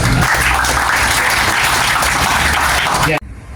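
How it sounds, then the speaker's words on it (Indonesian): A crowd of university students claps loudly at a plant protection lab field lecture, dense applause up close for about three seconds before it cuts off abruptly. "Aplaus untuk LPHP"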